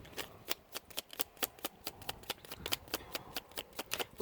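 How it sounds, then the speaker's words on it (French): Oracle cards are shuffled by hand in a quiet room, a rapid, regular run of soft crisp flicks and riffles, close and fairly faint, with no talking. "On prend une carte pour compléter, un message du petit oracle de l'âme sœur pour vous les Sagittaires en août"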